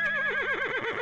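A horse at a cowboy weekend getaway gives one long, close, loud whinny with a wavering, quavering pitch that drops toward the end.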